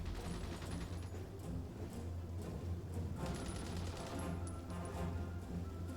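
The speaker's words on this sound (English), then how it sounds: "I heard gunfire." Distant gunfire from a battle in the strategy game Hearts of Iron IV, faint scattered shots and crackling under a steady low ambient drone, with no voices.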